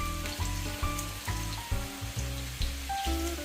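Za'atar chicken frying in very hot oil, a steady close sizzle and crackle under a humming background, with soft periodic thumps and spatters throughout.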